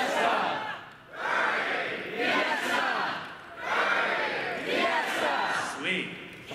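Convention crowd at an opening ceremony shouting a two-word call-and-response chant in loud alternating waves, each burst swelling and dipping as the sides trade off.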